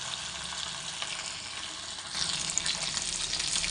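Masala-coated fish fries in hot oil with a steady, close hiss that suddenly swells louder and crackles more partway through, as if more pieces go into the pan; no talk.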